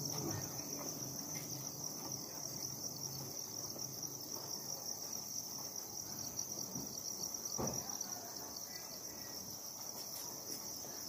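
Crickets on a cricket farm chirp in a steady, high-pitched trill that runs throughout, with faint background rustling.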